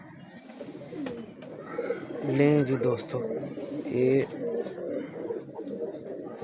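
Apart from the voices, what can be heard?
pigeons cooing, Teddy breed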